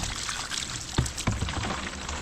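Mountain spring water pours and splashes steadily, a continuous rushing flow with a couple of louder gurgling splashes near the middle.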